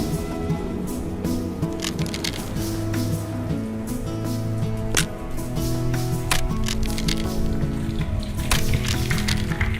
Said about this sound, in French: La pluie a tombé. Le torrent a coulé.